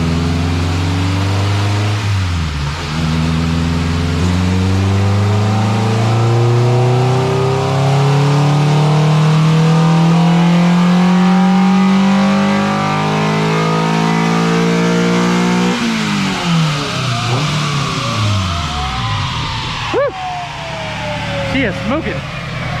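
A Honda Integra with a B20V engine strapped to a dyno revs hard and climbs steadily toward 8000 rpm, its loud rising engine note holding for a long sweep before dropping off, with short bursts of talk near the end.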